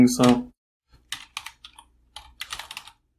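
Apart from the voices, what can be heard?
typing on a computer keyboard in a virtual machine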